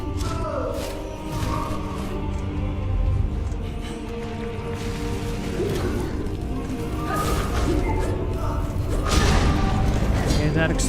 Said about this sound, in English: Okay, that explosion radius is huge.